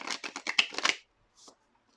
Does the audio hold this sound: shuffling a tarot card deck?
yes